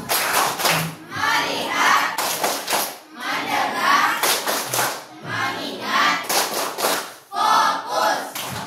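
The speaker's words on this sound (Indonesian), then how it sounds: "Kita tepuk fokus dulu yuk." Schoolchildren perform a rhythmic focus clapping routine, bursts of patterned claps alternating with group chanting in repeated cycles, loud and close.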